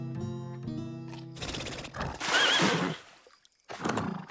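A horse neighs in an animated cartoon scene, a loud whinny rising out of music and clattering effects, then fading before a short final burst of sound.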